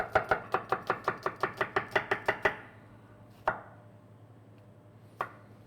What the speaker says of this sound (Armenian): մինչ կդաղվի ձեթը մենք կկտրատենք սոխը